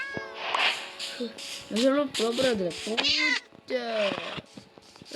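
A cat in the video game Minecraft meows repeatedly, several drawn-out, wavering cries in quick succession, while a person talks over them.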